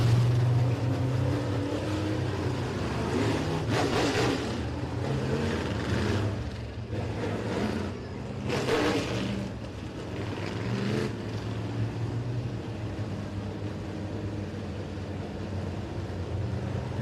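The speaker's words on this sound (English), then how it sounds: "for the third and final open wheel modified heat race of the evening" Open wheel modified race cars circle a speedway in an evening heat race, a continuous engine drone with several louder passes swelling and fading as cars sweep by, no talk over it.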